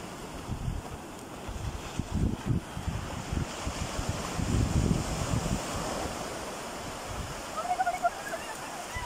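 Sea waves breaking on Radhanagar Beach, Havelock Island in the Andaman Islands, a steady broad rushing surf with repeated swells and wind noise on the microphone, continuous and fairly close.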